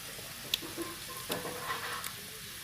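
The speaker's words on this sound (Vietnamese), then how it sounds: "bây giờ nó đã sôi rồi" Sauce with tofu skin bubbling in a pan, a steady close sizzling hiss with faint pops and small bursts, no voices.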